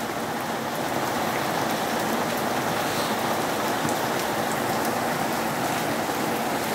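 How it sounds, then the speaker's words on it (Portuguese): Heavy rain from a storm in Fortaleza, Brazil, pours steadily and loudly, a dense continuous hiss of water hitting surfaces with no pauses. "Tempestade no fim do mundo aí."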